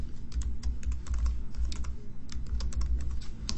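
A name is typed on a computer keyboard, producing a quick, close run of light, uneven key clicks that continues steadily with no voices.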